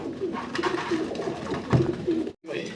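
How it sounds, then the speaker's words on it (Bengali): Soft, repeated cooing of racing pigeons close by, a steady rhythm of low throaty calls. "খুবই সুন্দর এক জোড়া রেসার কবুতর দেখতে পারতেছেন"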